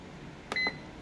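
A Fissler Souspreme multi pot's control panel gives one short, clear electronic beep as its slow cook button is pressed, preceded by a faint tap, in a quiet kitchen.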